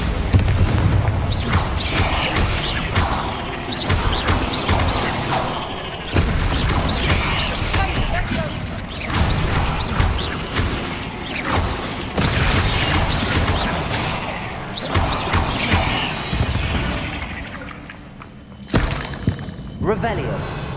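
The Bombarda blasting spell from Hogwarts Legacy goes off as a series of loud crashing, shattering bursts with debris crumbling, packed densely over a continuous rumble of game noise.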